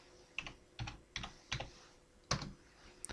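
Several sharp computer keyboard keystrokes in a quick irregular burst while a number is typed into accounting software, close and clear, with no talk.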